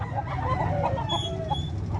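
Chickens cluck and cackle in short repeated bursts at a public market poultry expo in Cebu City, fairly close, over a low murmur of crowd noise.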